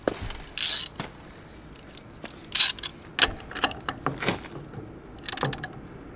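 A trailer's wheel bearing nut is worked loose with a tool, giving repeated close metallic ratcheting and clanking bursts separated by short quiet pauses.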